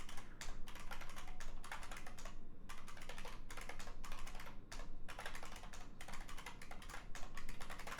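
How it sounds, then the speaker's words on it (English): Rapid typing on a computer keyboard, close and fairly quiet, with bursts of clicking keystrokes broken by brief pauses and no voices. "So we type the same thing in again, and obviously tab works, so you can tab over."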